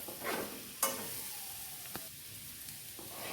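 Boiled potatoes stirred into a frying masala in a pan for a potato roast, with a steady soft sizzle, scraping stirs and a sharp clack of the spoon near the start, then quieter intermittent stirring.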